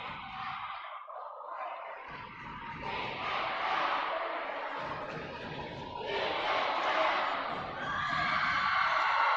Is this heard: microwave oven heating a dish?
no